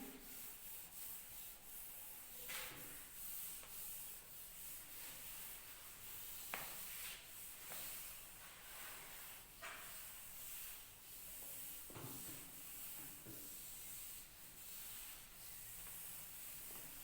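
Writing being rubbed off a classroom board, a quiet continuous scrubbing and rubbing with brief strokes throughout and no voice.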